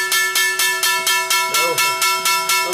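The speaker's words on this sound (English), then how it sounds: "you hear the bell, the exchange is closing" An exchange's closing bell at the NYSE options floor rings in a fast, steady train of metallic strikes, about three per second, loud and continuous with a brief low murmur partway through.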